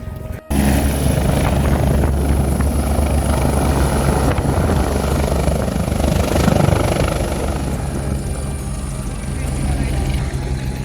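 A helicopter at the Kedarnath helipad roars loudly and close by, with a dense, steady rotor thumping and engine whine that runs unbroken throughout.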